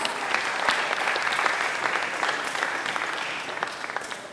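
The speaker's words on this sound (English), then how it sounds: "Let's give her a round of applause." Steady applause from an audience, many hands clapping continuously at a moderate, even level throughout.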